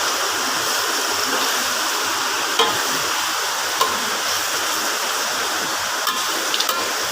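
Rica rica meat dish being stirred in a pan, Tondano Minahasa style with pre-boiled meat, a continuous loud sizzling hiss with a few soft scrapes, no voices.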